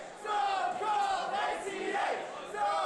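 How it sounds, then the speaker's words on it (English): A wrestling crowd roars and chants in support of ACH during a 2015 Chris Hero vs. ACH match, a dense continuous swell of voices filling the arena. "the crowd is getting behind ACH"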